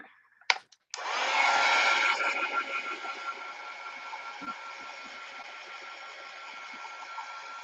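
A hair dryer clicks on after a couple of small knocks and blows with a loud, steady whooshing hum that continues throughout, gently fluctuating as it dries something.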